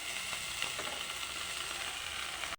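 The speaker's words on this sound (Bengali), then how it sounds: "কালো জিরে আর কাঁচা লঙ্কা ফোড়ন দিয়ে দিচ্ছি" Nigella seeds and green chillies crackling in hot oil as a tempering, a continuous close sizzle with small pops, ending abruptly.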